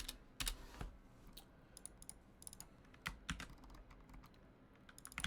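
Steady typing on a computer keyboard while writing code, heard as quick irregular clicks and clacks with a few sharper key strikes, fairly close and quiet, with no talking.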